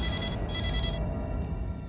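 A telephone rings in two loud, clear trilling bursts close by, then the ringing stops, leaving a low room hum in a Hindi crime drama scene.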